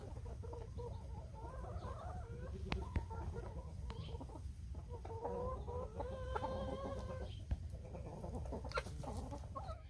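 Several chickens cluck and murmur nearby in an irregular chorus while working through a hot compost pile, over a low outdoor rumble, with occasional sharp taps.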